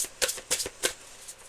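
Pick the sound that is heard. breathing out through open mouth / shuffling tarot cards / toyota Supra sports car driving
shuffling tarot cards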